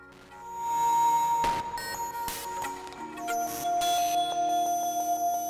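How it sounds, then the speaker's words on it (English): A synth voice from an Osmos plugin runs through Ohmicide distortion, giving a sustained, glitchy tone. Its shifting metallic pitches and sudden noisy bursts change character throughout, loud and unaccompanied. "By the way, I'm using the Osmos as a synth, and it sounds like this."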